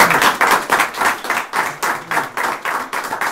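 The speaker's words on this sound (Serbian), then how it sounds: "Ajde jedan aplauz da se malo pozdravimo" Audience applause at a poetry evening in Mačva, welcoming a seventh-grade girl to the stage, heard as steady rhythmic clapping in regular pulses, fairly close and loud throughout with no talking.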